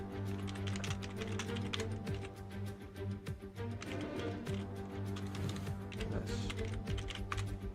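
Rapid, steady keyboard typing close by, with clattering keystrokes running throughout over a constant low hum and faint talk in the background.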